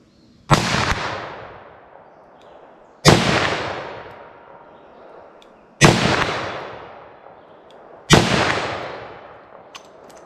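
Four loud handgun shots from a single-action revolver firing Federal Train + Protect .45 ACP or .357 Magnum, evenly spaced about two and a half seconds apart, each a sharp crack with a decaying ring.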